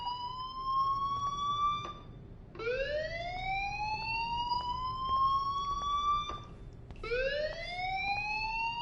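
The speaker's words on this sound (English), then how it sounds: "Do you hear that fire alarm? That means you should be outside." Fire alarm ringing inside the video game Life is Strange: a rising electronic wail that sweeps up and holds, repeating in three long cycles, steady and moderately loud with no talking over it.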